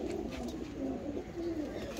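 A pigeon gives soft, low coos in a short rolling series, close but quiet, with faint background noise and no speech.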